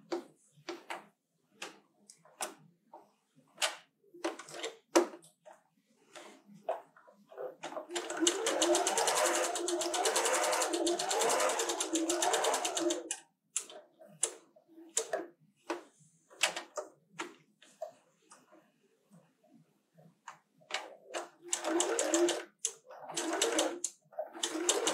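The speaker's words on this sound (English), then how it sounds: "So I'm going to go ahead and sew these two lines and then we'll cut it again." A sewing machine stitches straight lines across a quilt square, a long steady mechanical whirr in the middle flanked by shorter runs and scattered clicks and taps of handling fabric, close and fairly quiet.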